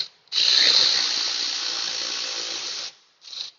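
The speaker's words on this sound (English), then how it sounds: "battery ratchet" Battery-powered ratchet spinning bolts loose on a Subaru wheel hub: a steady, close buzzing whir running about two and a half seconds, then a brief second burst after a short pause.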